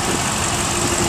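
A 4.6 liter V8 in a 2006 Ford Explorer Limited four-wheel drive runs at a steady idle, a continuous even engine drone close to the microphone with no talk over it.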